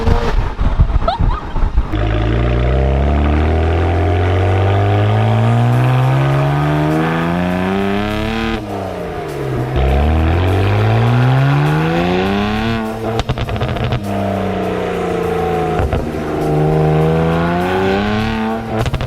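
A tuned car engine, fitted with roughly 60 extra horsepower, launch control and an exhaust pop-and-bang map, revs up and down in loud rising and falling sweeps. Crackles and bangs snap out between the pulls, with no talking over them.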